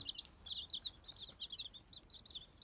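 Fragile young chicks peep in repeated high, thin chirps, close and fairly steady, while feeding together at a grain feeder.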